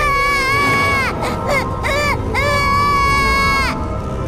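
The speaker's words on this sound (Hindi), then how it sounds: "तभी उसके कानों में उसके बच्चे की बहुत जोरों से रोने की आवाज आई" A baby wails loudly in a horror story scene, several long rising and falling cries with short gaps between them, close and piercing over a low rumbling background.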